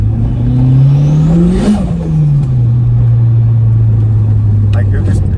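Budget turbo car engine and exhaust roaring loudly and steadily from close by, with a rev that rises and falls around the middle before settling back to a sustained drone.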